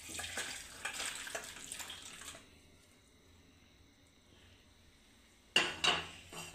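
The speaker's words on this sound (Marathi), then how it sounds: "आता झाकण काढून घेऊ आपण आणि हे कोबीतलं पाणी काढून घेऊ." A pot lid comes off and water drains from boiled cabbage with bay leaf: a burst of metallic clatter and splashing, then a quiet stretch, then another sharp splash and rattle near the end.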